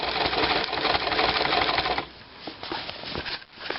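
Sewing machine stitching piping onto a striped cushion, a steady rapid mechanical run of needle strokes for about two seconds, then slower, broken bursts of stitching as it continues.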